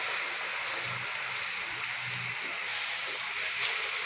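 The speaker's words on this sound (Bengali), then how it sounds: "এবারে আমি ভাজা শুরু করেছি, তেল গরম হয়ে গেছে" Shredded potatoes frying in hot oil, a dense, even hiss that holds steady and loud from start to finish with no voices.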